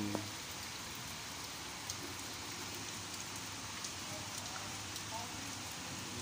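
Steady rain from Typhoon Fabian in Malate, Manila, a dense continuous hiss of falling water at constant level with faint scattered drops, no clear voices.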